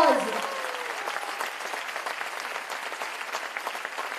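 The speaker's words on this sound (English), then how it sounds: "they really deserve a very loud round of applause" An audience at a school event at CP Goenka International School breaks into loud, dense applause that continues steadily to the end, with a brief voice trailing off at the start.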